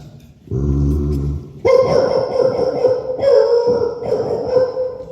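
A person imitates a dog with a series of loud, voiced barks and howling yelps, close and continuous, with no real dog present.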